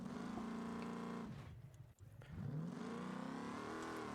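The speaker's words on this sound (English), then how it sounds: "Rear-wheel drive, 800 horsepower, brand new V8 engine sounds." Trophy truck with a brand-new 800-horsepower V8, rear-wheel drive, revving loudly in BeamNG.drive, a sustained close roar that drops away briefly near the middle before surging back up.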